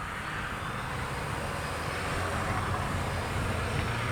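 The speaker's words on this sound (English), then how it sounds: "Good flying plane though." A small H-King Flybeam 2 RC airplane flies at night, its electric motor and propeller making a steady, broadband whirring drone that swells slightly, heard continuously with no talk.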